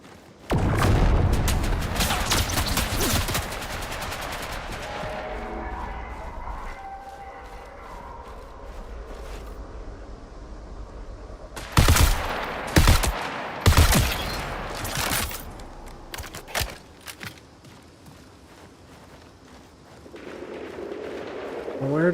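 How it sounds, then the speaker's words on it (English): Bursts of video game gunfire ring out in a looting-focused shooter, a loud volley at the start followed later by several sharp cracks and booms in quick clusters, with a player talking in between. "Where did that shooting come from?"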